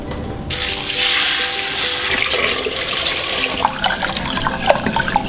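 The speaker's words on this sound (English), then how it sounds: "First, add your water." Water gushes and pours steadily into an aquaponics aquarium tank for an indoor garden, a loud continuous splashing rush with a few brief clinks near the end and no talking.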